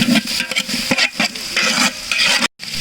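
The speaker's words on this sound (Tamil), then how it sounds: "வெங்காயத்தை நல்லா செவக்க நல்லா வந்து கிண்டி நம்ம வந்து நல்லா பொரிய விடணும்" Onions fry and get stirred in a pot for village-style chicken biryani, a close, steady sizzle broken by repeated scraping strokes of a spoon, with a brief silent gap near the end.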